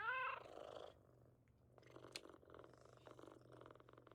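Very quiet, close purring from a mama cat being petted. A brief higher cat sound comes at the start, then a soft, rhythmic purr continues.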